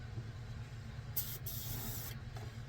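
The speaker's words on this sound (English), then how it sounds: "what I've done is I've taken my airbrush" An airbrush sprays lacquer thinner, two bursts of sharp hissing air, a brief one followed by a longer steady stream, over low room hum.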